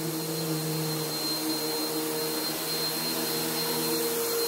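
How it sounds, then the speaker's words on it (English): A household vacuum cleaner runs continuously during chores, a steady loud whine and hum with no pauses or voices. "run the vacuum"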